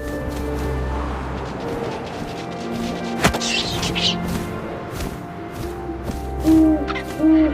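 An owl hoots in the video game What Remains of Edith Finch, over a steady wind-like ambience, with a sharp thump partway through and a few clear hoots near the end.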